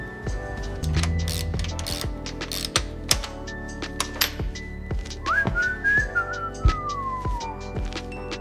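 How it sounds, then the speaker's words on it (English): Upper fork bolts being loosened on a neglected 1999 Suzuki Hayabusa GSX1300R, heard as a string of sharp metallic clicks and ratcheting taps with a clear whistle-like squeak rising and sliding mid-way, close up with no talking. "Gently loosening the upper bolts now. Feel that resistance give way. And slowly, the fork slides down."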